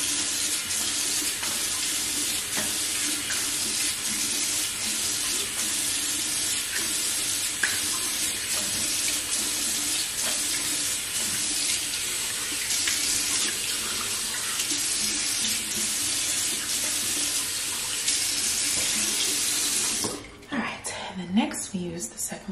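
A bathroom faucet runs steadily and fairly loud while a face is washed during a skincare routine, then shuts off near the end, leaving brief splashes.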